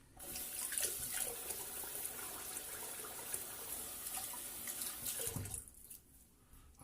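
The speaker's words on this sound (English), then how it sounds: "I'm just going to wet the face again." Tap water runs steadily into a sink while a face is wetted for shaving, a close, continuous hiss and splash that cuts off near the end.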